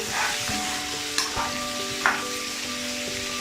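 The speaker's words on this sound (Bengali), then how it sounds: "দিয়ে দিচ্ছে হাফ চামচা হলুদ গুঁড়ো আবার একটু নেড়ে নিচ্ছি" Raw mango pieces with turmeric powder being stirred in a frying pan for chutney, a steady sizzle broken by a few sharp spatula knocks against the pan, no voices.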